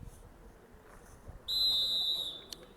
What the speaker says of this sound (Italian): C'è quindi il fischio